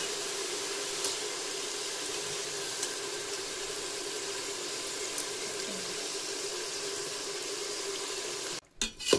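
Masala sizzles in a frying pan for Dindigul-style biryani, a steady, even hiss close by with a few faint ticks, ending in a brief clatter.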